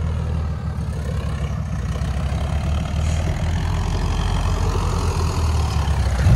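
A tractor engine idles at a muddy off-road spot, a steady, close, low rumble that holds even from start to finish with no voices.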